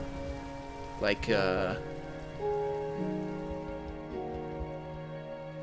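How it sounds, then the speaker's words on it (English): Rain falling outside a shelter in a video game, a faint steady patter under a short stretch of talking, with low tonal game sounds shifting in the background. "if I go in here, it still sounds like it's raining outside"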